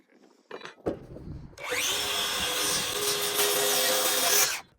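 A power saw cuts a timber piece for a corbel: a few short knocks and a brief motor blip, then a loud, sustained whining buzz of the blade through wood that runs for about three seconds before stopping.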